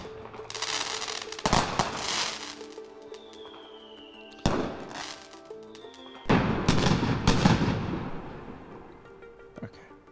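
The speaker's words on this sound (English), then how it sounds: "a local neighborhood's fireworks display on the 4th of July" Fireworks go off in a neighborhood display on the 4th of July, with repeated sharp bangs, crackling bursts and whistling rockets rising in several loud volleys, some near and some further off.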